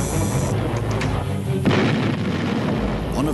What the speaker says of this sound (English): Bismarck responds with a series of salvos.